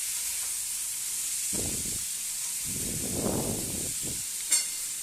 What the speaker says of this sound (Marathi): बटाटे आता एक मिनटासाठी मसाल्यात व्यवस्थित असे परतून घ्यायचे आहे